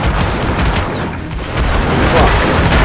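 Dense, booming gunfire in the video game Hitman Absolution, a loud rapid clatter of shots layered over heavy low rumble that dips briefly and then surges back for the rest of the burst.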